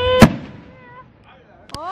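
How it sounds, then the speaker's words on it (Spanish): Fireworks and firecrackers exploding on Christmas Eve in Mexico, one sharp nearby bang followed by a second pop near the end, with a person speaking between them. "Los cohetes que se escuchan están tronando por todos lados aquí."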